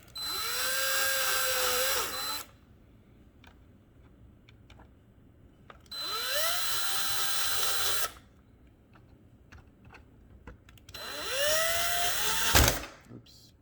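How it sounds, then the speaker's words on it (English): Power screwdriver driving screws into an iRobot Roomba cleaning head module, three sustained whirring bursts of about two seconds each with rising pitch at start, separated by quiet pauses, the last ending in a sharp click. "Then what you want to do is screw in the 4 screws."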